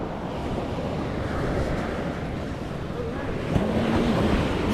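Continuous ocean surf rolls and washes without a break, thick and close, mixed with wind buffeting the microphone on a fishing outing by the shore.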